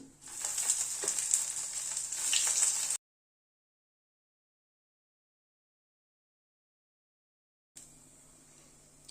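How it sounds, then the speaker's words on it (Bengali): Pieces of food fry lightly in mustard oil in a kadai, a steady close hiss and sizzle that cuts to silence for several seconds, then comes back briefly. "এভাবে সবগুলোকে একটু হালকা করে ভেজে নিচ্ছি"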